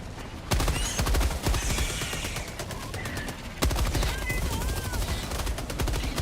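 Rapid automatic gunfire from Helldivers 2 on Helldive difficulty, with dense overlapping bursts and weapon sounds throughout, loud and close, a sharp new volley near the middle, and faint game tones and voice-like chatter underneath.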